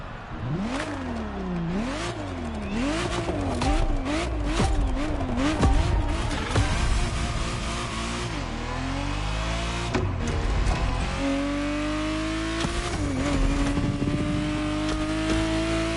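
Ferrari Testarossa engine in the racing video game The Crew Motorfest, revving hard in repeated rising and falling sweeps, then holding steadier climbing pitches through gear changes, loud and close throughout.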